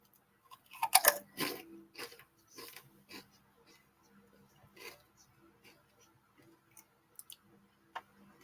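A crisp snack bitten and crunched close to the mouth, with a burst of loud crunches early on, then scattered fainter chewing clicks and pauses.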